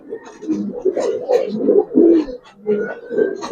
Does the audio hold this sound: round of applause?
no